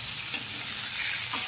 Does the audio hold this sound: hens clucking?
no